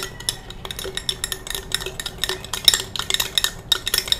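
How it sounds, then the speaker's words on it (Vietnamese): A spoon stirs freshly poured boiling water in a container, with rapid clinking and scraping against the sides in a busy, close, continuous rhythm. "Sau đó các bạn sẽ khuấy đều lên."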